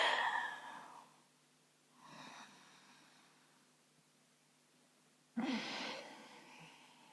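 Slow yoga breathing: one long, airy exhale, then a softer breath, a quiet pause, and a sharp, close inhale that fades into a sustained breath, all without speech.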